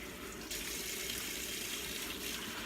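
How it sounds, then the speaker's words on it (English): Running tap water splashes steadily into a sink as collard green leaves are rinsed front and back, a continuous close hiss that jumps louder about half a second in and stays even to the end. "We're washing our collard greens. All you need to do is take each leaf and rinse off the front and the back."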